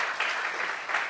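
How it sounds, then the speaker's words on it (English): Audience applause for the speakers at a career development panel event, a steady wash of clapping from a modest crowd that swells slightly near the start and the end. "can I get another round of applause for our amazing speakers?"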